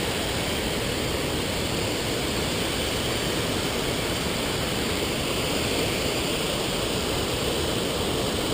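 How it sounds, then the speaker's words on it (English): Huge waterfall near an old gold mine roars with a dense, constant, loud rushing wash of falling water, unbroken throughout with no voices. "This is an absolutely fantastic waterfall. Very loud."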